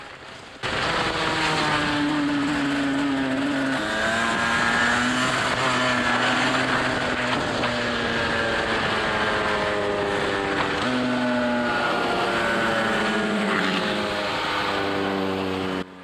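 A shifter kart engine runs steadily at close range on a race track, its buzzing tone rising and falling in pitch through gear changes, then stopping abruptly at the very end as the engine cuts out.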